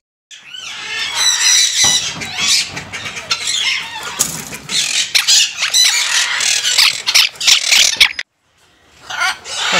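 Pet macaws squawk and screech loudly and close by in a dense burst of harsh calls for about eight seconds, then fall briefly quiet before the raucous calling starts again.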